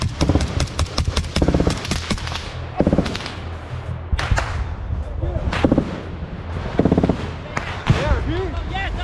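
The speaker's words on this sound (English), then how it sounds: "Have you ever heard so many gunshots in a video before?" Rapid bursts of gunfire crack repeatedly in a trench battle in Ukraine, some in quick volleys and others single loud shots, near and far, with shouting voices mixed in.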